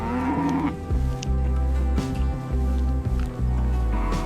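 Beef cattle on a ranch lowing loudly and close, several long overlapping moos following one another with brief gaps, no talk.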